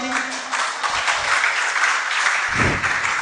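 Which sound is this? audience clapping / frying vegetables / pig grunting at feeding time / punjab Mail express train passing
audience clapping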